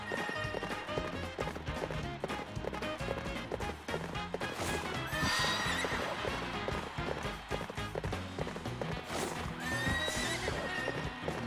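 A horse gallops in the Mario & Sonic at the Rio 2016 Olympic Games equestrian event, rapid clip-clop hoofbeats running throughout, with a couple of loud whinnies and jumping clatter along the way.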